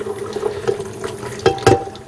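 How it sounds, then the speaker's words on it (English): Apple juice pouring from cooked apples into a colander, a steady close trickle of liquid with a couple of brief splashing bursts near the end, no talking. "pouring into the colander, we're going to reserve the apple's juice here"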